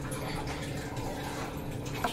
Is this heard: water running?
yes